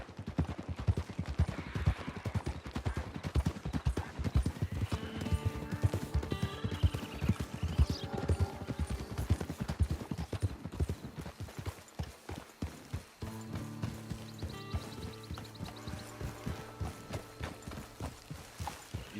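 Horse hooves clip-clop in a steady walking rhythm, close and continuous, with a brief pause midway before the hoofbeats resume alongside a horse's snorts.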